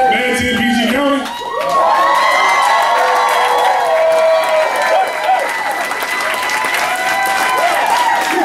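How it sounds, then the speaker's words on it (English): A crowd bursts into loud applause with cheering and whoops, dense clapping and shouting voices sustained at close range after a brief speech-like opening. "Go clapping, go clapping."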